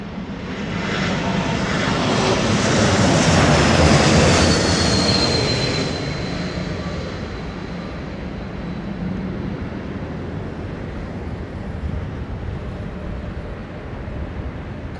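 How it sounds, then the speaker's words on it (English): An Embraer E190-E2 jet airliner passes at London Heathrow, its engine roar swelling loud over the first few seconds with a rising whine, then easing into a steady, quieter rumble as it moves away. "This is the Embraer E190 E2."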